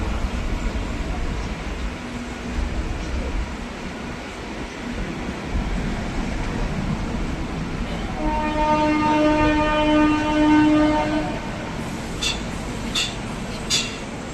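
The Padatik Express passes through Sealdah, a long rolling rail rumble under a sustained, loud two-tone horn blast midway, followed by sharp clanking hits near the end.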